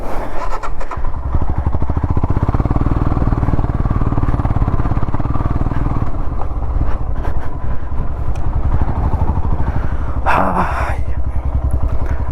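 A motorcycle engine running close by on a ride to Shankareshwara Betta, with a steady loud rumbling drone throughout and a brief clattering burst near the end.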